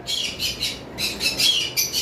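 A caged pair of Fischer's lovebirds, one albino and one blue, squawk close by in sharp, shrill bursts, three or four rapid calls separated by brief pauses.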